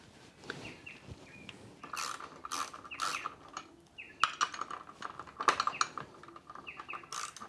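Screws being started by hand into the four pannier mounting points of a Triumph Trekker bike, giving close, light clicking and ratcheting metal scrapes in irregular bursts, no talk.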